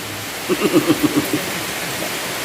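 Rain pours down in a steady, loud wash of broadband noise, with a brief run of low rhythmic pulses early on before the constant downpour continues alone.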